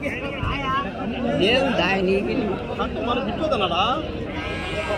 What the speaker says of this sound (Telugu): ఎన్ని ఉన్నాయా పొట్టేళ్ళు ఇవి?